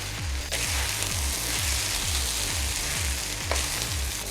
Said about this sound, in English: the rice frying itself up is also going to do that same thing